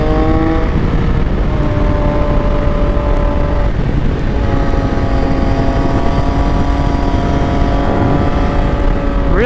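A 2024 Yamaha XSR 900 motorcycle engine pulls hard in fourth gear, its harmonic drone climbing steadily and loud throughout, with wind roar and no talking.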